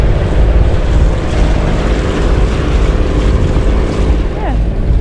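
The sailing boat Excelsior motors through a calm Indian Ocean in the Mozambique Channel, its engine a loud, continuous low drone with water rushing past and some wind on the microphone.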